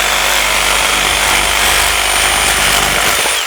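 Loud, continuous buzzing rattle of a Sawzall reciprocating saw cutting through wood while clearing woods by a creek, heard close and unbroken for several seconds with no talking.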